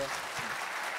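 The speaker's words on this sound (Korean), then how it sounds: "박수로 한 번 더 격려해 주시죠." Congregation applauding during an afternoon church worship service, a steady wash of clapping filling the room at moderate level for about a second.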